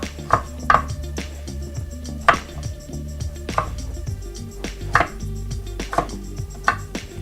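A knife chops a very large carrot into julienne strips on a board, sharp close thuds coming in an uneven rhythm of single and paired strikes with a faint hum underneath.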